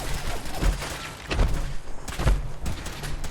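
Rapid bursts of gunfire in Fallout 4 combat, a few loud heavy shots thudding close by in quick succession over a busy background of game noise.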